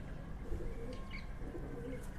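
White pigeons of Sialkoti breed kept at home, giving soft low cooing calls amid a faint, noisy background.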